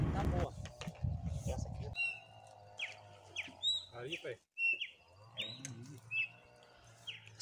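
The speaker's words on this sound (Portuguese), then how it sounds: "Os passarinhos cantando." Small birds sing on a rural property, with repeated short, bright chirps and whistles scattered throughout, fairly close. A low rumble and some faint background voices run under them, mostly near the start.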